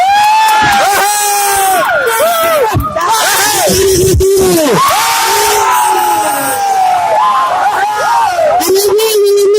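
A stand-up comedy audience in Aceh cheers, whoops and hollers loudly for a comedian, a raucous crowd with rising shouts and whistles, and a voice speaking over the noise at times.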